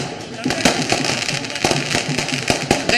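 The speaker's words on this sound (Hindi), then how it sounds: "रांची में ये देखिए किस तरह से जमकर आतिशबाजी हो रही है।" Fireworks crack and pop in rapid irregular bursts, some sharp and close, over a crowd's background chatter at a BJP election victory celebration in Ranchi.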